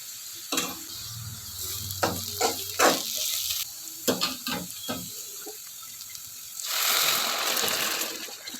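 Beans and carrots sautéing in a pan for vermicelli upma, with bursts of sizzling and stirring scrapes coming in uneven clusters, then a louder, sustained hiss of frying near the end.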